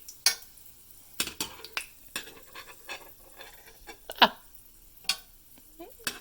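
Items are scooped out of hot oil in a pan while cooking ribeye steak, with scattered scrapes and metal utensil clinks over a faint sizzle and several sharp knocks.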